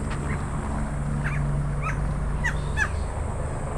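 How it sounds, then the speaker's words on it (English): Small fig birds call with several short, sharp chirps at mid distance, spread sparsely across the moment over a steady broadband outdoor rumble. "Little fig birds."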